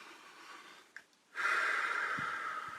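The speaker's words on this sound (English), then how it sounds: "Just let your breathing get back to normal." Audible breathing as a person recovers after a laughter exercise: a soft exhale, a brief pause, then a long, airy, close breath continuing steadily, with no speech.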